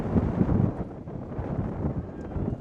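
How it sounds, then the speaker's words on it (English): A strong gust of wind sweeps across a high school football field during a varsity game, a heavy steady rumble buffeting the microphone with no voices over it. "It's quite the gust."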